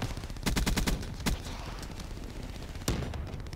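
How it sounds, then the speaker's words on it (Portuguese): Rapid bursts of automatic gunfire from the Black Ops 3 robot-battle multiplayer map Rupture, in short volleys with a lone later burst over steady game background noise. "Ué, eu tô atirando no cara."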